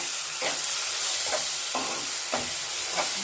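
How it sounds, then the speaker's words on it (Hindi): Onion paste frying in a pan for a malai paneer dish, with a bright, continuous sizzle and a spoon stirring in about five distinct strokes, close and alone. "अभी हम प्याज का पेस्ट डालेंगे इसमें"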